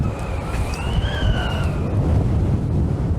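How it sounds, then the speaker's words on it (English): Strong wind on a beach at Bahia Concepcion, a steady rushing roar with gusty low rumble buffeting the microphone, plus a brief faint high whistle-like tone early on. "People are ducking in behind the trailer to avoid the wind."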